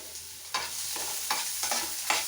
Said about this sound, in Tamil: இது கொஞ்சம் நல்லா ஃப்ரை ஆகட்டும் பொன்னிறமாக